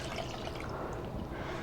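Lime juice poured into a key lime pie filling of sour cream, a steady soft liquid wash running evenly throughout, close and continuous without talking.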